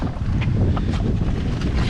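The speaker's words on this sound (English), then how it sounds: "Oh, it's windy." Strong wind blows outdoors in a residential neighborhood, a steady, loud, gusting roar buffeting the microphone for the whole stretch with no other clear sounds.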